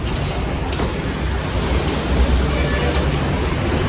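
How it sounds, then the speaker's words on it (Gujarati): Morning rain falls steadily in Lonavala, Maharashtra, making a continuous broad hiss at moderate loudness with no distinct individual drops standing out. "તો અત્યારે ગાય છે ને સવારનો વરસાદ ચાલુ છે."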